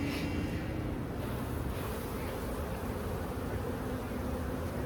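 A dense, steady hum of many honey bees buzzing close by on a hive frame, continuous and loud, with occasional breathy rushes of air across the microphone from blowing on the frame.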